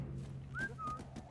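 A video game character whistles two short rising then steady notes during a co-op stealth game, moderately loud over a constant low hum with soft muffled thumps.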